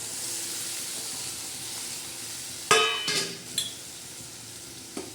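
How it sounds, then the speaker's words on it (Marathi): Cluster beans with dried fish and shrimp sautéing in a pan with salt and chili, a steady soft sizzle and hiss broken by a few clanks of a spatula stirring against the metal. "पण हे असं चांगलं परतून घेणार आहे"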